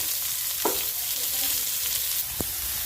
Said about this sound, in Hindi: थोड़ा सा पहले इसे हल्का सा सौते कर लेते हैं और थोड़ा सा इनको भुनने दीजिए